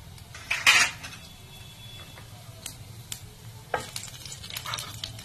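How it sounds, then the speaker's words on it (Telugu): Mustard seeds, urad dal and cumin sizzle in hot oil, giving a soft, steady frying hiss punctuated by sharp spoon clinks and scrapes against the pan, with no talk. "ఆవాలు చిటపట్లాడిన తర్వాత"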